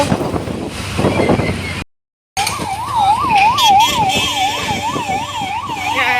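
An ambulance siren wails in a steady rising and falling pattern over road traffic noise in rainy Rajkot, after a brief moment of silence.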